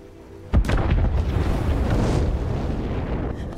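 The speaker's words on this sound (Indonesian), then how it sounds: "tiba-tiba terjadi ledakan besar." A huge oil well explosion in an action film bursts in suddenly after a quiet moment, a loud boom followed by a sustained, roaring rumble that fills the rest of the scene.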